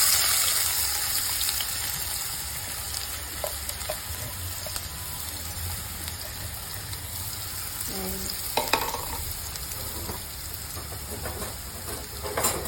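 Sliced onion and chilli fry in a pan of hot oil for gongura chicken, a steady close sizzle and hiss running throughout with occasional spoon scrapes and stirs, no talking.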